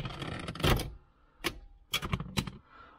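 Plastic shift-lever trim on a 2003-2013 Toyota Corolla being pried loose: a handful of sharp, close clicks and snaps in separate bursts with brief quiet gaps, no voices.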